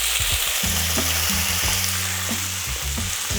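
Chopped onion sizzles and crackles steadily in hot oil in a pan, heard up close, with light stirring knocks throughout.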